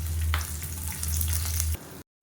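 Dried red chillies sizzle steadily in hot oil in a pan for a chutney, a close, even frying hiss with a low hum under it before it cuts off abruptly.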